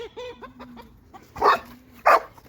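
A dog gives two sharp, loud barks close by, following softer yips and whimpers at the start.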